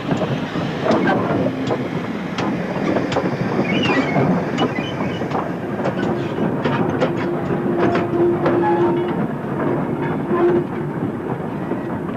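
GWR 2800 class steam freight locomotive at work on the Severn Valley Railway, a steady rolling rumble with rhythmic clickety-clack of wagon wheels over rail joints, a brief squeal midway, close and continuous throughout.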